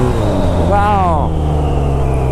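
A BMW R nineT Scrambler motorcycle pulls hard in second gear, its engine giving a loud, steady rumble with a brief rising rev in the middle, under wind noise and a rider's voice.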